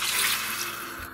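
Water pours from a container into a frying pan holding pork and wine, making a steady bright splashing rush for about a second, close and loud, then cutting off.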